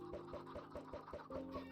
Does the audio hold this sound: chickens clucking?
yes